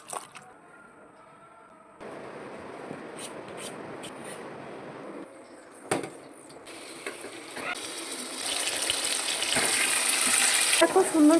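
Chicken leg pieces fry in a pan with a steady crackling sizzle that grows louder and brighter toward the end, with occasional clatter from stirring.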